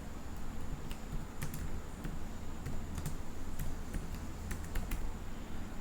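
Keys clatter on a computer keyboard as a Linux command is typed, quick irregular clicks close up over a steady low background hum.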